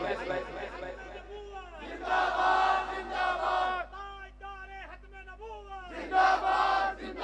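A crowd at a religious conference in Wazirabad shouts the rhythmic chant "Tajdar-e-Khatm-e-Nabuwat" in loud bursts, a leading call answered by many voices together, with pauses of murmuring between.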